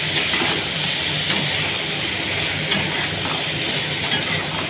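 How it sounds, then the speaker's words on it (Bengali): Potato and eggplant fry in a pan with nigella seed tempering, giving a steady, fairly loud hiss of oil with a few faint clicks from stirring and no voices. "এখানে এই সবজিটা এখন ভাজা করতে দিলাম"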